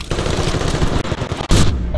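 Rapid automatic gunfire in Battlefield: Bad Company 2, dense rattling bursts filling the whole stretch, with a sharper heavy blast near the end, loud and close with no talk over it.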